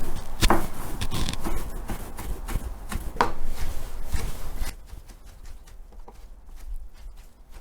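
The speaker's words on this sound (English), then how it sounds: "You just make it into little cubes, start cutting them slices, and as you cut the slices, you then start making little cubes out of it like this." A knife cuts sushi-grade salmon into small cubes on a board, giving a series of irregular close chopping taps and knocks, louder in the first half and tapering to softer cuts toward the end.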